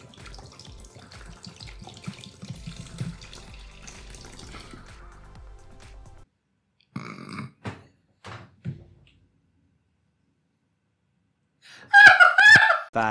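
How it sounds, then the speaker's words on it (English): Liquid trickles into a pricey toy cauldron with a faint, steady pour, then goes silent, followed by a few brief voice sounds and a short loud burst near the end. "so are you going to pour this into the cauldron?"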